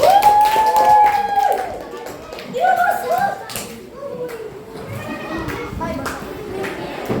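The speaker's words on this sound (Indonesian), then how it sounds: "Boleh beri tepuk tangan dulu buat kelompok ini." Scattered hand claps from a classroom audience for a student group after its presentation, mixed with children's voices and chatter, moderately loud and uneven.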